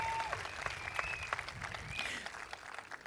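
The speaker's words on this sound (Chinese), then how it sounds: "给予他们一定的掌声" A crowd at an election rally in Pasir Ris-Punggol, Singapore, breaks into sustained applause, a broad wash of clapping heard at some distance, with occasional whistles rising above it.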